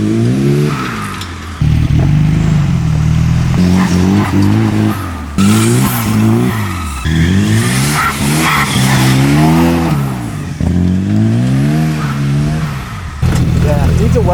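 A Volvo twin-turbo redblock buggy with an open diff drives and revs hard, loud close engine roar rising and falling in repeated surges with brief drops between, tires squealing at moments.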